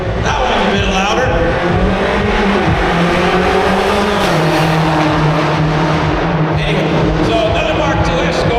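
A Mark II Escort rally car engine revs hard and continuously at close range at a motor festival, its pitch rising and falling, with voices talking over the roar.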